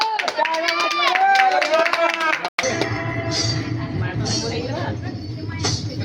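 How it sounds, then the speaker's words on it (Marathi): A comedy-show audience breaks into clapping after a vocal passage, the applause forming a broad, steady wash of claps that continues to the end. "टाळ्या वाजवा"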